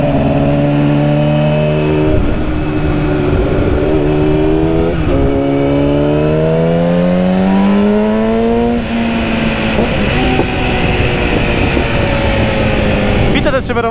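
A 2008 Yamaha R6 sport motorcycle engine revs loud and close, its pitch climbing through smooth rising sweeps with brief dips between gear changes, as a person talks beneath the engine noise.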